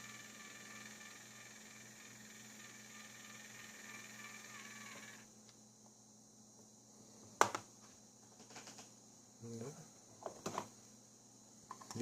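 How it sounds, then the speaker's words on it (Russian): An electric motor for turning shashlik skewers gives a steady, faint mechanical hum for about five seconds, then stops, followed by a few clicks and knocks while someone talks. "Звук мотора, наверное, слышен,"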